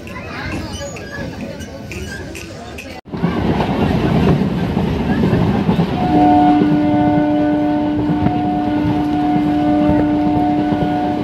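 An express train at Kanthi railway station rumbles loudly, and after a sharp break a long sustained horn-like tone sounds in the second half. Voices seem to be mixed into the station noise.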